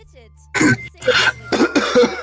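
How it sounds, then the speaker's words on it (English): A person coughs and clears their throat in a few short, close bursts, with brief pauses between them. "Oh, excuse me, I'm having a cough."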